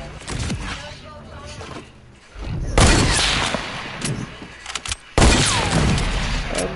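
Bursts of gunfire in the Fortnite battle royale game, with heavy booming shots and a rapid fusillade breaking out loudly in two main clusters around brief pauses, under occasional talking.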